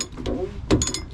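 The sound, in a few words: wrench tightening a Duramax fuel filter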